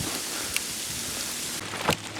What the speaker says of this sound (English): It's a full-blown ice storm.